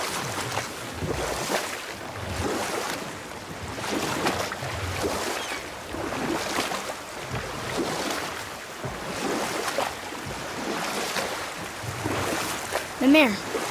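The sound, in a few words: rowing a boat in God of War video game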